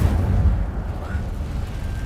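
A fire spell called Incendio cast in a video game, heard as a sustained low rumbling whoosh of flame that stays steady and fairly loud for about two seconds, with a faint brief tonal flicker midway.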